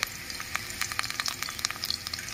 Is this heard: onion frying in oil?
yes